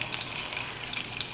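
Dried potato pieces deep-frying in shallow oil in a tilted pan give a steady, close sizzling hiss with no talking, cooked as a garnish for a sirloin steak.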